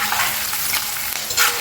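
Curry leaves sizzle and crackle in hot oil in a pan while a red chilli pickle is being made, a steady, close hiss of frying with brief louder pops near the end.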